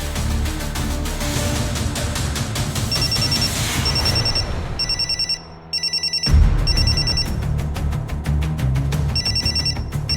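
A telephone rings in repeated electronic trills, loud and close, with a brief pause partway through before the ringing resumes, no talk over it.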